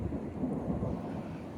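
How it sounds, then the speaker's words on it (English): Deep thunder rolling and echoing between mountains near the Kyrgyzstan border zone in Kazakhstan, a steady low rumble that stays broad and sustained throughout, with no voices. "Weather has been a bit threatening for a while now, with the clouds running in and thunder."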